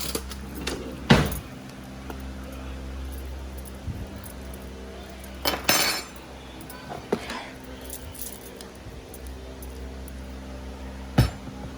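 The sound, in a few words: spoon clinking in a dish while cooking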